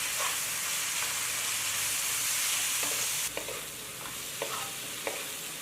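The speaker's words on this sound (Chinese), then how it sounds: "我们就倒入切好的青蒜叶翻炒均匀" Pork small intestines stir-fried with chopped green garlic leaves and chili bean paste: steady loud sizzling with scraping spatula strokes, a sharper burst of frying midway, then intermittent stirring clicks.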